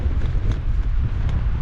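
Strong gusty wind on the bank of the River Humber, continuous loud low buffeting against the microphone with brief fluctuations.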